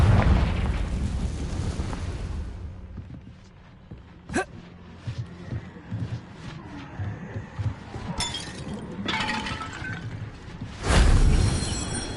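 Confringo fire spell from Hogwarts Legacy bursts in a loud, rumbling blast that fades into debris and crackling, followed by a sharp impact crack and later shattering bursts, with a final heavy boom near the end.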